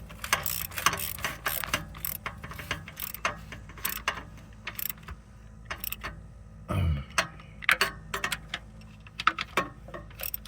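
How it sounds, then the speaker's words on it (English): A ratchet tightening bolts on the starter shield of a Pontiac Firebird with a 3.8 V6, close-up bursts of quick clicking strokes separated by short pauses, with a heavier clunk midway. "Once I tighten these two bolts,"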